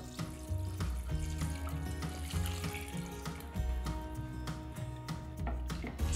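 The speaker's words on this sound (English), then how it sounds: "pour over 1 litre, which is a little over 4 cups of chicken or vegetable stock." Chicken or vegetable stock is poured over peeled, diced potatoes in a pot for leek and potato soup, a continuous close liquid pour with splashing and bubbling, heard alone without talking.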